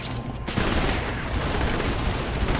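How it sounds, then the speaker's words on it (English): Dense, rapid gunfire from hip shooting in the video game Saints Row: The Third, a loud sustained burst of overlapping shots lasting a couple of seconds. "It's the hip shooting that sucks."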